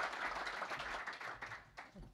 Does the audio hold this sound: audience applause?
yes